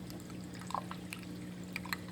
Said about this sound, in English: The pump's starting to pump water up top because it's going to run a little higher